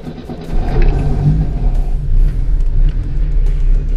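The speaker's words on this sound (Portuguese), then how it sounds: "Agora, se eu ligar o carro," A car with a faulty clutch starts up and settles into a steady, low, rumbling idle close by, the engine running continuously without revving.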